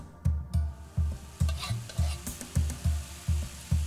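Sambal sauce stir-fried in a hot wok with shallots, garlic, ginger, lemongrass and red chilies for Singapore chili crab, a utensil scraping in steady rhythmic strokes about every half second over a constant close sizzle.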